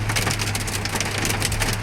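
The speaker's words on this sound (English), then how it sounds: "That's hail." Hail pelts a moving vehicle during a drive, a dense, steady rattle of hard impacts drumming on the body over a low road and engine hum, loud and close throughout.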